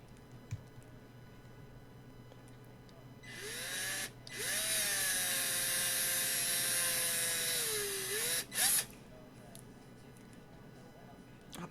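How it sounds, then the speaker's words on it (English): A power drill with a 3/16 drill bit bores into the head of a post on a Jeep EPS job, whining steadily for about five seconds with a brief pause and a short final burst, over faint background hum. "I'll follow it up with a 3/16 drill bit to take the head of the post off."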